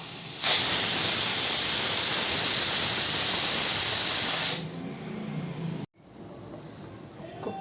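A pressure cooker of soaked dal lets off steam in a loud, steady hiss lasting about four seconds, then drops to a faint, quieter rush with a brief cutout.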